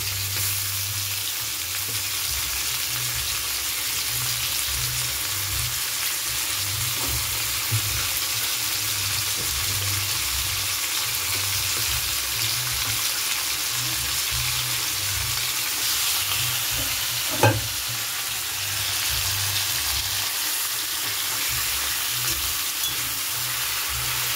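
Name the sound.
onion and tomato frying together with meat for biryani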